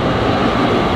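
A train passes in Switzerland, a steady, loud, broadband rumble filling the whole brief moment without a break.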